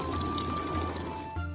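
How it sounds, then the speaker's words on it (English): Water pours in a steady close shower over freshly compost-topped soil in a container of newly sown herb seeds, a continuous splashing trickle that shifts slightly near the end. "And then we'll give it a nice little shower."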